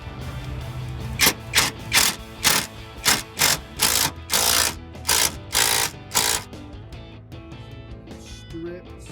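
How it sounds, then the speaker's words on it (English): A socket ratchet clicks through about a dozen evenly spaced bursts of sharp ratcheting while loosening a muffler bolt on a 2011-2014 Mustang axle-back exhaust, close and loud, then stops and fades to quiet shuffling. "I'm going to grab my ratchet now"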